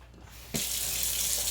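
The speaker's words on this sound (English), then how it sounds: "next I'm going to be adding some water" Water gushes steadily from a tap into a pot of red beans, starting abruptly after a brief quiet moment and running loud and continuous to the end.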